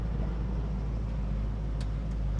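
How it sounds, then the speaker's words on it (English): A 1970 Ford Mustang Mach 1 with a 428 Cobra Jet V8 idles steadily and close by, a deep even rumble that runs the whole stretch with no voices over it. "this motor's just running like a top"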